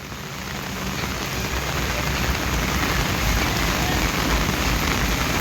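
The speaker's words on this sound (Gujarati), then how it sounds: "જેટલો વરસાદ હમણાં તો એટલો વરસાદ પડ્યો છે ને" Heavy downpour pouring steadily in Rajitan, a dense, even roar of rain on surfaces that builds slightly and holds at full strength, with no voices over it.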